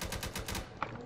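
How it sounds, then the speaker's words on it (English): Rapid automatic gunfire in a Roblox video game, a quick burst of regularly spaced shots at moderate loudness that fades out near the end. "Please stop shooting me!"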